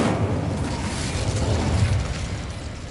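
Incendio fire spell cast in Hogwarts Legacy: a loud, sustained roaring whoosh of flame with a deep rumbling undertone that runs steadily for about three seconds.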